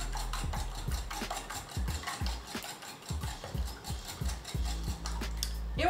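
Beaten eggs being mixed in a bowl for an almond-milk egg custard, a quiet repeated clicking and tapping of a utensil against the bowl in a steady stirring rhythm, close and faint.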